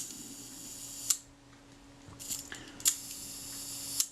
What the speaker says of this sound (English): So the shutter's all running, and I'll need to test those speeds